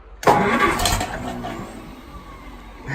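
A Farmall M diesel tractor running on gas, first start in two to three years, cranks and catches with a sudden loud burst, then settles into a rough, fading idle with a small rise at the end.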